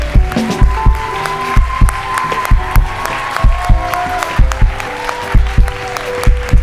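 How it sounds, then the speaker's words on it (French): A church congregation applauds, dense clapping with low rhythmic thumps and faint cheering, loud and close, carrying on evenly with no talk over it. "on aimerait faire une bonne main d'applaudissement"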